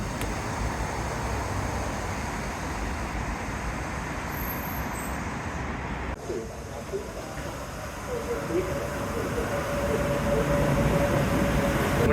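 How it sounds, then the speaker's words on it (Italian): A metro train rolls along in Chongqing with a steady, dense rumble and rattle, heard close from inside the carriage, with a faint high whine appearing partway through and the noise swelling toward the end. "con questo treno, vagone, entreremo dentro un palazzo che sembra essere una stazione stessa"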